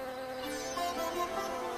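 A honeybee buzzing steadily near a nectar-rich flower, a continuous close droning hum with slight swells in loudness, heard alone for under two seconds.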